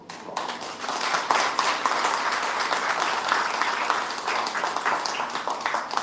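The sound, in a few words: audience applause for a panel of lawyers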